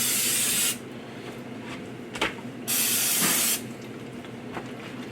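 Olive oil sprayed onto chicken for pit barrel huli huli chicken, in two long, loud, hissing bursts separated by a quieter pause with small handling noises.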